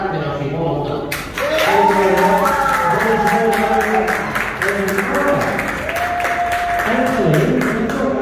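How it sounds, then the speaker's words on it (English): An audience claps in a steady, close flurry while voices talk and call out over the applause, the clapping continuing throughout. "clap it up in order"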